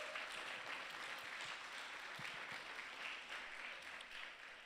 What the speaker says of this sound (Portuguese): Vamos aplaudir esses irmãos